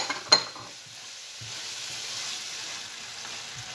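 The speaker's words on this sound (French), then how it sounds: "On va ajouter l'ail et le persil. On va bien mélanger." Garlic and parsley sizzle in a frying pan as they are stirred together, opening with a sharp clink of a utensil, then a steady, soft frying hiss that continues close by without any voices.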